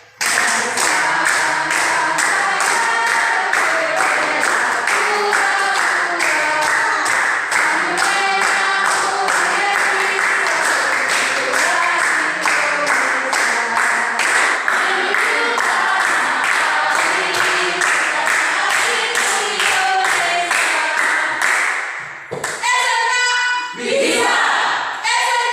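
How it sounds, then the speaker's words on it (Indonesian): Classroom group clapping hands together in a fast, steady rhythm, loud and continuous for over twenty seconds, then stopping as voices begin to sing. "Dengan semangat ya, tepuk tangan."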